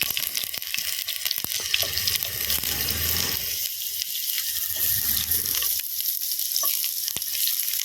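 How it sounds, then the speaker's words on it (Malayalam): Mustard seeds and chopped shallots sizzle and crackle steadily in hot oil in a home kitchen, with occasional stirring scrapes and no talking. "ആദ്യം നമുക്ക് കടുക് ഇട്ട് കൊടുക്കാം."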